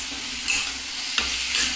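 Cauliflower pieces cooking in a pan with peas and tomatoes give a close, steady sizzle, broken by a few sharp scraping stirs of a spoon.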